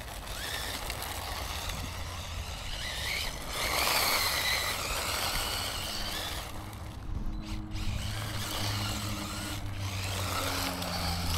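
Reely 1/10 RC track car with a Razor 60 combo on 3S power driving, giving a buzzing electric motor whine that rises and falls in bursts over about eleven seconds, with no voices.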